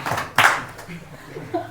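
Hand claps at a Hindu kirtan-style religious gathering, with a sharp burst of clapping standing out briefly amid talk and other voices.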